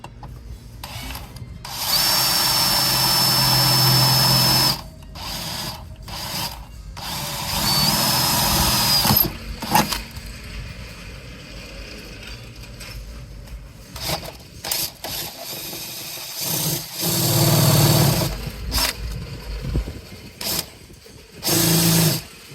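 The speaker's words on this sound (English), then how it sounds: "drilling into there? Right into another sheet metal, apparently." A power drill whines in several loud bursts of varying length, separated by pauses and clanking, with a gritty metallic edge as it bites into a van's sheet metal.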